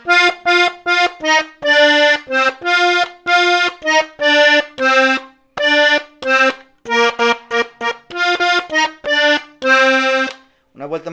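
An accordion plays the first and second parts of a song in short, punchy chords and staccato melody bursts, loud and close, with quick pauses between phrases.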